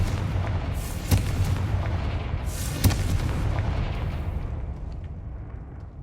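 Two loud explosive booms from a Confringo fire spell in Hogwarts Legacy on PS5, about a second and a half apart, each a sharp burst over a low rumbling game background that fades toward the end.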